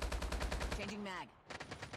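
Rapid automatic gunfire from a Call of Duty Mobile battle royale match, loud, close bursts in a steady rhythm, breaking off partway before short shots resume.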